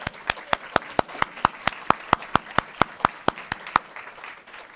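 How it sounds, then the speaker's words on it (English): An audience at an awards luncheon claps in a steady, evenly spaced rhythm of sharp claps, moderately loud, fading out after about four seconds. "So another round of applause."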